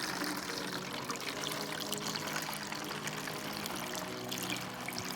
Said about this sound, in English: you can just put it in a jug to save it